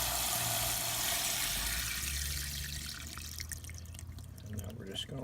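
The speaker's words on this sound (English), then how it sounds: "And now we're doing a 1-inch rainstorm." Simulated rain from a one-inch rainstorm falls on a HydroBlox drainage demonstration, giving a steady hiss of water spray that thins and turns patchier toward the end.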